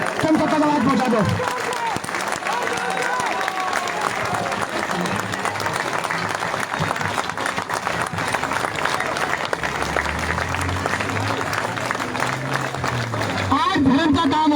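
A large protest crowd at Jantar Mantar in New Delhi breaks into loud, sustained applause that runs unbroken for about fifteen seconds. Voices and a low rumble mix in near the start and end.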